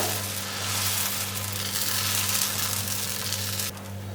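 Cheese dosa batter, about one and a half ladles poured onto a hot oiled griddle, sizzles in a steady, close, even hiss with a faint hum underneath, with no talk.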